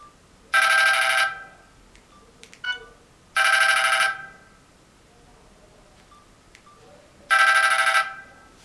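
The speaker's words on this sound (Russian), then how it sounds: "Теперь проверим, как воздействует звук от телефона на данный выключатель." Three bursts of an electronic phone ringtone, each lasting under a second and separated by quiet gaps, played loud and close while a clap-activated light switch is tested for false triggering; small clicks fall between the rings.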